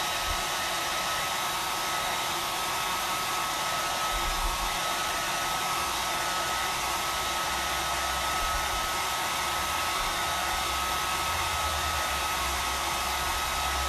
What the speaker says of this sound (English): I've got my blow dryer here. It's going to be a little noisy.